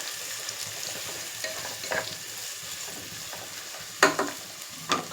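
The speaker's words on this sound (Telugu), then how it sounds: "పచ్చిమిర్చి, ఆనియన్ ఇవి వేసేస్తున్నాను. కొంచెం ఫ్రై అవ్వాలి." Green chilies and onion fry in oil for a cucumber and dried prawn curry, a soft steady sizzle with occasional sharper clinks and scrapes of stirring.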